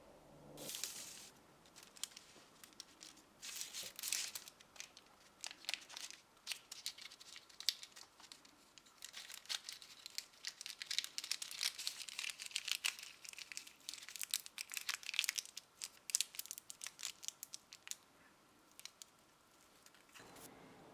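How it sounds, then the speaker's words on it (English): Wax paper crinkles and rustles as homemade herbal suppositories are rolled up in it, a quiet, close run of irregular crackling and crumpling bursts with brief pauses. "Then we're just going to roll them up in a bit of wax paper and place them in the freezer."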